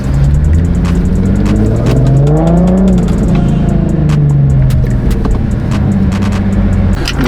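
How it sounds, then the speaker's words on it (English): A Lamborghini arriving at a car meet, close and loud, its engine revving and dropping through downshifts with rising and falling pitch sweeps over a constant rumble. "Downshift. Gotta go in sideways."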